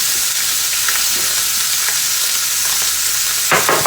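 Pork tenderloin sears in a hot pan, giving a steady, broad sizzle that runs the whole time, with a few brief louder crackles near the end and no talking.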